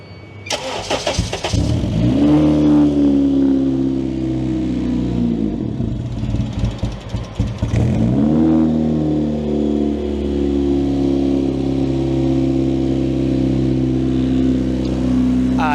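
An engine cranks and catches with a sharp start, revs briefly, dips, then fires up again and settles into a loud, steady idle close by.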